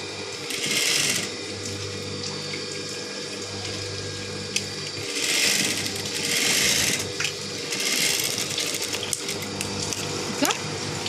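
A domestic sewing machine stitching a round neckline on a nighty, running in three whirring bursts with pauses between, close and fairly loud over a faint background hum.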